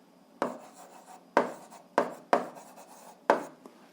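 Pen strokes writing on paper during an 8th-grade algebra exercise: five short scratchy bursts of writing at an uneven pace, close and fairly quiet, with no talk.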